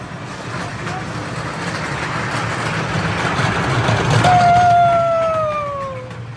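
A small three-coach amusement-park train that has run for thirty-two years rumbles along steadily. The rumble swells, and a rising metallic squeal comes from the wheels near the end. A voice may be faintly present.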